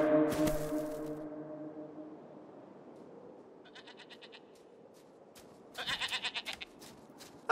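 Rain horn blown to imitate a reindeer mating call, a low, sustained horn blast at first, then quiet, followed by a short, pulsing bleat like a goat's near the end.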